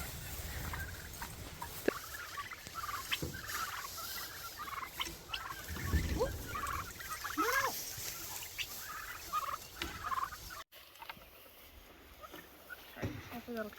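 Turkeys gobble repeatedly on a pasture farm, their bursts rising over constant outdoor background noise, with people talking nearby.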